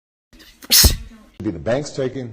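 One loud, sharp human sneeze bursts out near the mic, followed by a person speaking briefly afterward.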